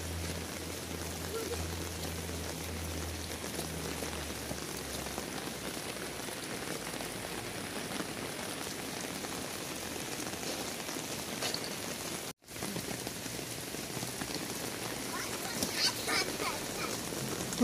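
Heavy rain pours steadily onto a road, a dense, even hiss that stays loud and close throughout, with one brief dropout near the end.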